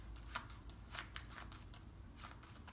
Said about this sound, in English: I'll mix up the cards even further.